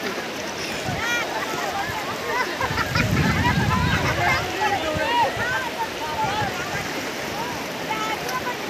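Water waves slap and wash steadily around a boat at close range, with gusty wind rumbling on the microphone and people talking over it throughout.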